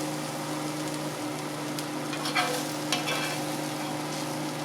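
Onions frying and caramelizing in a cast iron pan, a soft continuous sizzle over a steady low hum, with a couple of brief crackling bursts; no talking.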